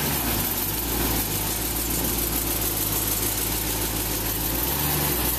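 A car with a stock exhaust idles in a steady, low, even rumble, close and constant, with a faint vibration and no talk.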